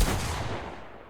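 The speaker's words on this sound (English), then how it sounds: "The current pump shotgun sounds like this." A single booming blast from the pump shotgun in the Fortnite video game, loud and close, with a deep low-end thump that decays over about a second.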